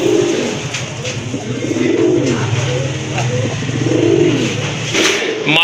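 Pigeons at a Bangladeshi farm selling pairs give repeated rolling coos in a steady rhythm, close and fairly loud over a low background hum.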